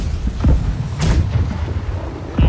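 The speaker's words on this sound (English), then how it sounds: "I hear cannons." Cannon fire in the Blackwake pirate ship game, heard as deep booming blasts rumbling through a low, steady background roar.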